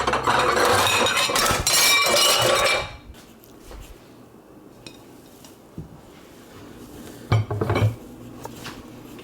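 Dishes and cutlery clang and clink loudly for a few seconds, then quieter scattered clinks and a brief burst of clatter follow.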